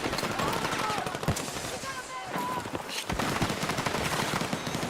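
A standard MP7 submachine gun fires in rapid bursts in a shooter video game, with short pauses between strings of shots and a voice talking over the gunfire.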